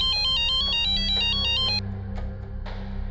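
A mobile phone ringtone for an incoming call, a bright repeating electronic melody that plays loud and steady, then cuts off abruptly, leaving a low background hum and a few soft clicks.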